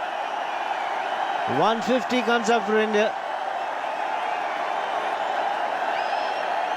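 Cricket crowd at an India vs Australia one-day international, a steady broad roar of cheering and applause carrying on throughout, with a commentator talking over it partway.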